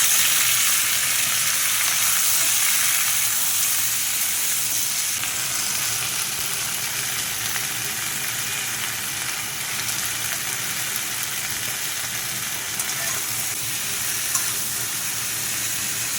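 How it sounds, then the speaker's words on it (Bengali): Boiled flat beans frying in hot oil in a wok give a steady, close, loud sizzle and hiss that runs unbroken throughout, with occasional faint stirring. "শিমগুলোকে একটু ভেজে নেবো।"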